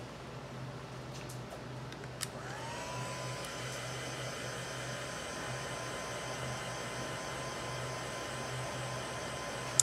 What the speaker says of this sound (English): So, like we did before, we're going to dry it.